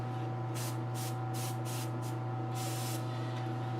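An airbrush sprays paint in short, separate hissing bursts, about six of them, the last one longer, heard close up over a steady low electrical hum from the compressor or room, with no talking.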